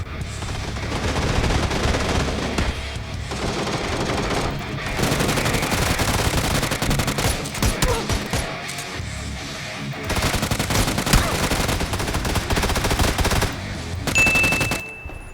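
Sustained automatic gunfire in the battle royale game PUBG, loud, dense and nearly continuous, with repeated rattling bursts and a few pauses, no talking.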